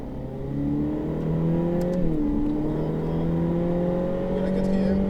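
A Ferrari F8 Tributo accelerates on a race circuit, its engine note climbing steadily in pitch through a gear change, loud and close from inside the cabin, with an instructor speaking over it.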